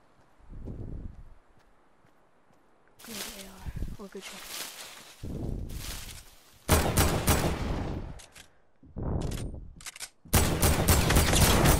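Bursts of automatic gunfire from an online shooter game crackle in loud, rapid volleys and short single shots, with players talking and laughing excitedly between and over them.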